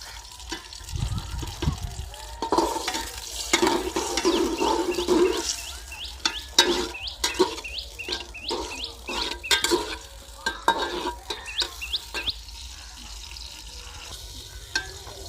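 Onions frying in hot oil are stirred in an outdoor field setting, giving irregular scraping and sizzling bursts, with bird chirps in the background and a voice now and then.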